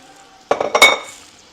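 A metal pan is handled and clanked in a kitchen while seasoned crawfish go in: a short cluster of loud scraping, clinking knocks that fades over about a second.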